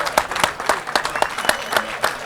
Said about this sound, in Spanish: Recibe los aplausos Nico.